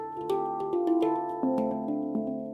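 Handpan struck by hand, a series of soft metallic tones ringing with long sustain and warm overtones, each note blooming and gently overlapping the last, close and clear with no voices.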